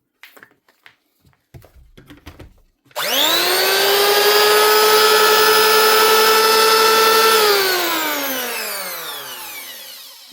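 An old 2006 Makita 9002 electric planer, repaired after jamming, starts after a few light clicks, whines loudly and steadily at full speed for several seconds, then winds down as it coasts to a stop.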